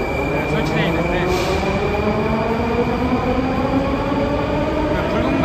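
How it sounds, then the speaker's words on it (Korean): A Moscow metro train runs through Revolution Square station, a loud continuous rumble with whining motor tones and wheel noise, steady throughout, with a voice faintly present beneath it. "모스크바 시내 중심가에 있는 지하철역입니다."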